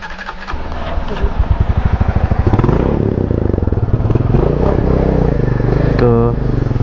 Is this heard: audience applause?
no